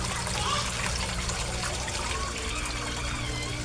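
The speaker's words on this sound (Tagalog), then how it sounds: "Ang lakas-lakas ng air pump ko, di ba?" An 18-watt air pump bubbles water in a koi pond, giving a steady, loud gurgling and splashing wash that carries through the whole stretch with no break.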